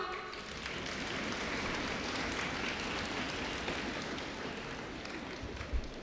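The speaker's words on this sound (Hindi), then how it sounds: "ब्रिजलाल के लिए तालियां।" An audience at a National Unity Day event in the Samvidhan Kaksh claps for a student, giving a dense, steady round of applause that lasts several seconds with no talking over it.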